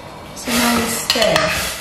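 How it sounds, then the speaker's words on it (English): Stew being stirred in a pot during home cooking in Abuja, Nigeria, with scraping and clattering of a utensil against the pot, close and moderately loud, and a voice briefly heard over it. "So now we stir."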